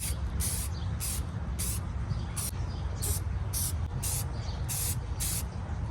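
Aerosol can spraying Rust-Oleum semi-gloss black over bare metal on animatronic parts, a loud close hiss in short rhythmic pulses about every half second over a steady rushing background.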